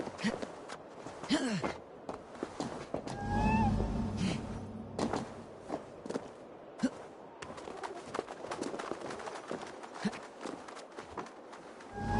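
A small cat perched on a statue meows in the Assassin's Creed Valhalla video game, brief soft calls mixed with faint bird-like chirps, footsteps and ambient game sounds, fairly quiet.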